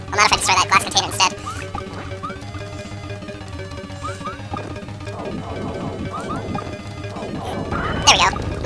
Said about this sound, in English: not if I destroy that glass container instead